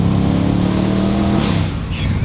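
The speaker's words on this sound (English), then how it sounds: "This is the Audi RS7." An Audi RS7 with a twin-turbocharged V8 drives on a commute, its engine a loud, close, steady low rumble that eases off briefly near the end.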